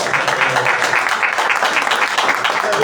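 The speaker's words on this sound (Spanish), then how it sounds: "Fuerte aplauso al Señor, mis hermanos." A church congregation claps loudly and steadily in praise during a service, a thick, close wash of many hands with voices woven in beneath the clapping.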